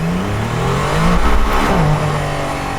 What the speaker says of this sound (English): Let's feel the acceleration when I floor it.